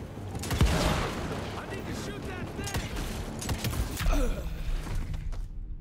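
Scattered gunshots and impacts in the action game Evil West, irregular bursts and crashes at moderate loudness with people talking over them, ending in sudden silence.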